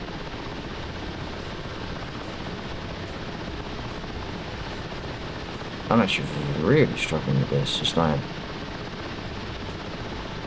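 A helicopter in the flight simulator DCS World, flown in the dark while sling loading, hums as a steady rotor drone throughout, with a person talking over it partway through.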